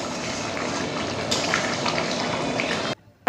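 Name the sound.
papads frying in oil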